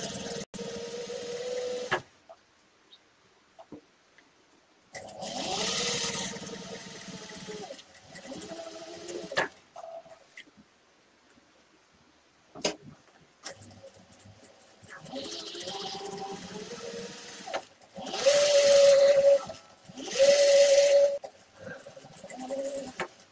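A home sewing machine stitching a handmade bag runs in several short bursts of whirring with pauses between, close and fairly loud, with small clicks and handling noises in the gaps.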